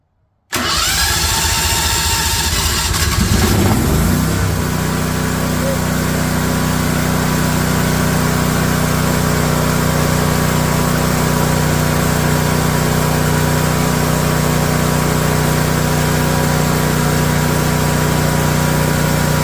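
A new propane-fueled house generator engine cranks for a few seconds, then catches and settles into a loud, steady running drone that lasts to the end. It is recorded close up with no talking.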